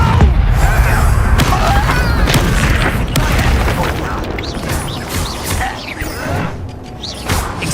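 A Confringo explosion spell goes off in the Hogwarts Legacy video game, heard as loud booms and crashing hits with whooshing bursts layered through busy combat noise.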